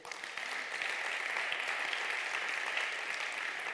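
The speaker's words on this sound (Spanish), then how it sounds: "Dale un fuerte aplauso al rey." Church congregation applauding after a sermon reading, a steady, dense wash of many hands clapping throughout, fairly distant and even, with no talk over it.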